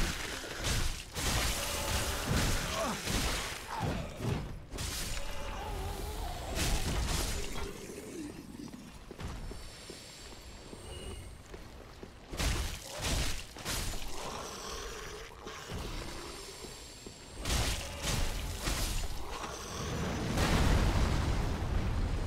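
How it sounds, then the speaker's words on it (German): Repeated loud blasts and crashing debris in a chaotic Dark Souls 3 game soundscape, explosions erupting in bursts with rumbling aftermath between them. "Und hier explodieren schon wieder Dinge."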